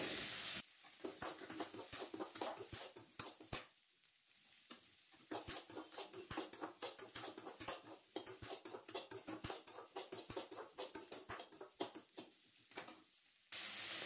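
Green chillies frying in a pan with onion for a pirandai chutney, a loud, dense crackling sizzle full of rapid pops that cuts off into brief quiet moments and then resumes.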